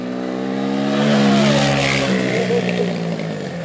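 Quad ATV engine revving hard during stunts on a track, a loud, sustained roar with rising and falling pitch that swells in the middle, with no voices over it.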